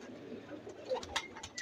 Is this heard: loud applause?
no